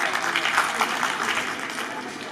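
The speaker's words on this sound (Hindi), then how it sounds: "तो बकरी के लिए तालियां।" Applause from an audience at a quiz event, a steady patter of many hands clapping at moderate volume, somewhat distant and filling the moment without talk over it.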